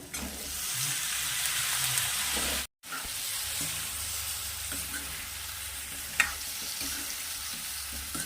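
Brinjal pieces fry in a pan of cooked tomato masala, a soft, even sizzle heard close up, with a momentary dropout and one sharp utensil clink later on.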